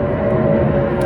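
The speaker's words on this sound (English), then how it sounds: "Sorry for the plane." A steady, loud airplane drones overhead continuously as a low, broad roar throughout the short stretch, with no voices present.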